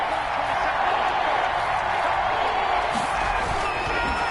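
Stadium crowd noise in a console football video game, a steady loud roar of cheering fans building ahead of a big third down, continuous and broad, with commentary voices faintly under it.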